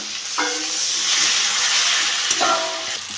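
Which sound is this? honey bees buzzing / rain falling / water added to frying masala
water added to frying masala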